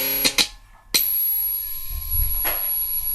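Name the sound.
FM radio sound from speaker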